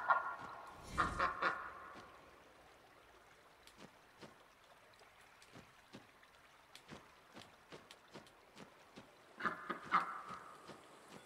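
A duck honks in the video game Lost Ember, with loud bursts of honking at the start and again near the end, and faint splashy taps in between.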